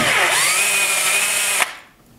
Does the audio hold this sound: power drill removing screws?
yes